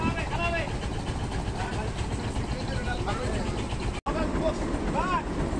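Engines of fishing boats arriving one after another beside a passenger launch near Char Montaj island, a steady droning hum with passing tonal sweeps and talk over it, briefly cut off for an instant.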